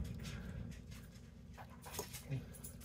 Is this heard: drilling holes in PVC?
no